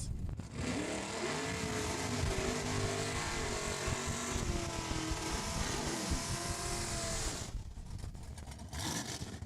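A Real Steel Big Tire drag race car at Saskatchewan International Raceway roars loudly at full throttle for several seconds, its engine note sweeping and fluctuating before cutting away, then a brief further burst of engine noise.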